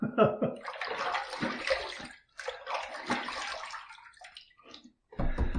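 Water rinsing off a razor and face after a shaving pass, with bursts of splashing and running flow close by, broken by brief pauses and a final loud gush.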